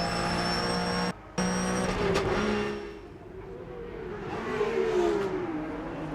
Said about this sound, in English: Great onboard shots with Dan Lloyd, look, in the Porsche, inch perfect, using all of the available grip on the tarmac.